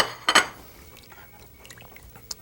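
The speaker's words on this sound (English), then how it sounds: "let's throw in our tamarind pulp. our pineapple, our carrots" Tamarind pulp, pineapple and carrots tumble into a cooking pot with a brief wet splash and pour near the start, followed by quiet clinks and faint kitchen rustle.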